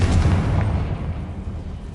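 A loud fiery blast from the Confringo spell in the Hogwarts Legacy game, a deep booming explosion that rumbles and slowly fades over about two seconds, heard alone without voices.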